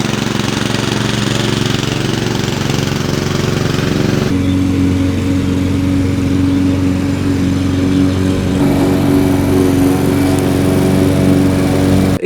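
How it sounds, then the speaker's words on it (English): A grass cutting machine's engine drones loud and steady while mowing the lawn at a historic manor house, the motor note shifting in pitch a couple of times but never letting up. "early in the morning you'll be hearing the engine of the grass cutting machine"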